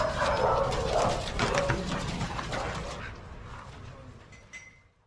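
A dog barks several times in quick succession, loud and close at first, then the sound thins and fades out toward the end over a faint background.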